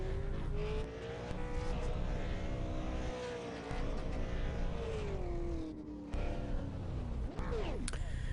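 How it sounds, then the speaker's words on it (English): V8 Supercar race cars do donuts at Okayama, their engines droning and revving continuously near and loud, with pitch sweeps and tyre noise and brief dips as the throttle changes. "When they finish doing the donuts"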